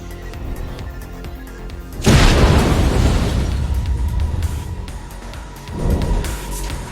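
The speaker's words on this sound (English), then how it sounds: "The rocket exploded at point-blank range." A rocket launcher blast at point-blank range in The Blind Prophet video game: a loud, sudden boom with a long rumbling tail, then a second, smaller burst near the end.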